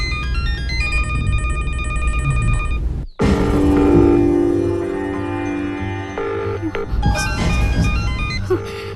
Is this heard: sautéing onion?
no